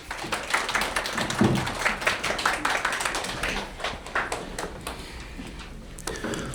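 Applause from a seated audience at a university fieldwork-semester results-sharing presentation in Korea, greeting the next speaker; moderately loud and steady for about five seconds, then thinning out toward the end.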